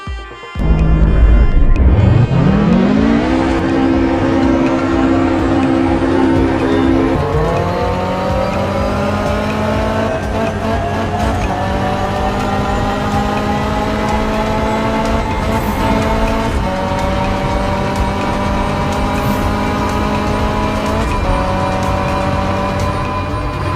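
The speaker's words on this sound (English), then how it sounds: "switch on engine and floor it up the incline" A hybrid car in sport mode switches from electric to engine power and is floored up an incline. The loud engine climbs steadily in pitch, then holds a sustained, close drone throughout.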